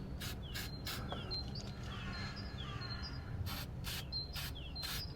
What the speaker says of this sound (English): Try not to spray the camera.